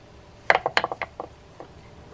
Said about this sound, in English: Next up then is to put the two tie-down screws in.